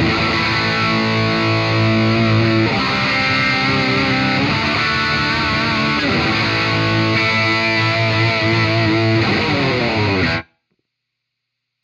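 Distorted electric guitar through a humbucker bridge pickup and an AmpliTube 4 amp simulation plays loud sustained chords and bends for about ten seconds, then stops abruptly into silence.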